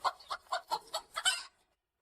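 A young rooster clucks in a quick run of about six sharp, close calls, loud and alone, ending abruptly into silence.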